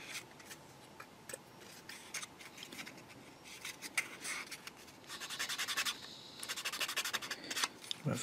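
Rubbing on a plastic part of a Takom Chieftain Mk.10 tank model kit, heard close up. Scattered dry scratchy strokes give way to firmer, longer rubbing passes, all fairly quiet.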